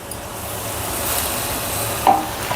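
Fresh fenugreek leaves tipped into a hot pan for a lentil kootu, giving a soft continuous sizzle and hiss with a brief scraping stir near the end.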